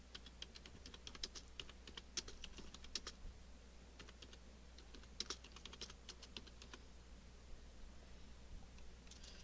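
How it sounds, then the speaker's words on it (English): Typing on a computer keyboard, irregular bursts of soft key clicks over a low steady hum, quiet and close with no talk. "I could type with my keyboard in the way."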